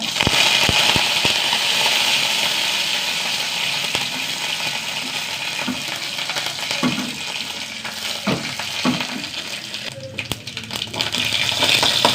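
Mustard seeds and urad dal crackling in hot oil in a pan, a loud steady sizzle close by with scattered sharp pops and stirring scrapes throughout, no talking.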